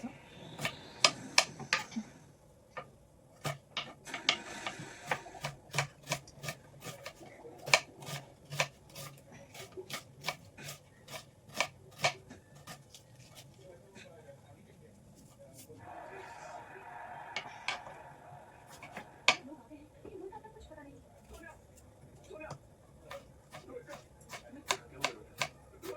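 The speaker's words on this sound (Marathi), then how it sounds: "झालं आपला कांदा टोमॅटो कापून." Knife chopping onion and tomato on a cutting board in a home kitchen, a steady run of sharp close taps in quick rhythm with brief pauses and some rustling of the pieces.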